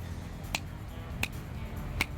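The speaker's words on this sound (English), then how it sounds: "snap your fingers together 3 times" Three crisp finger snaps, evenly spaced about two-thirds of a second apart, close and clear over a low steady background hum.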